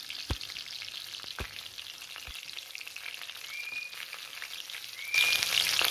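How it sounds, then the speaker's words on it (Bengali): Pomfret fish shallow-fries in oil over a low-to-medium flame with a steady, crackling sizzle and a few sharp pops early on. The frying grows louder and brighter toward the end. "যেহেতু ফ্লেমটা লো টু মিডিয়ামে রেখে মাছটা ফ্রাই করছি সেই জন্য একটু সময় লাগছে"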